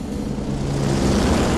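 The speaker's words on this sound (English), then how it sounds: "No, we're under a helicopter." Helicopter hovering overhead in the Batman: The Enemy Within video game, a loud, steady rotor-and-engine drone with no voices, filling the whole short moment.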